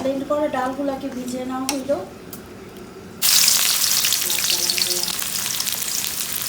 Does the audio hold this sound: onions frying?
yes